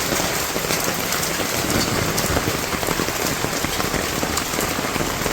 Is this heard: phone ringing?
no